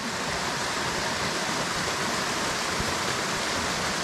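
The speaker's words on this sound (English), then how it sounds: "So I made my way up to this waterfall here" A waterfall on a small wild trout stream roars in a steady, dense rush of falling water, loud and close, unchanging throughout with no voices.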